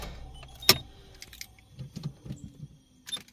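A car's engine shuts off after a parked stop, with a sharp click, key jangling and a few soft mechanical knocks and clunks close by, and no talking.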